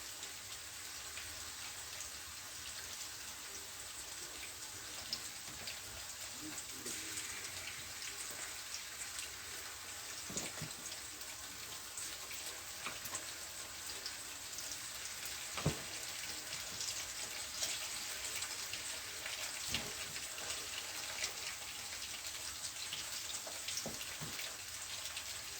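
Sliced eggplant sizzles in hot frying oil, giving a steady, dense crackle with scattered louder pops throughout and no talking.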